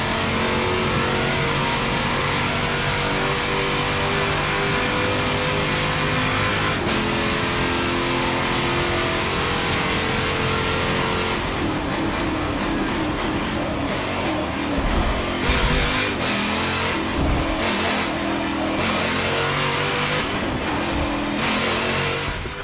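A race car engine roars in Forza Motorsport 7 during an endurance race at Spa-Francorchamps, loud and continuous, with rising revs, gear changes and shifting pitch as it accelerates, no voices.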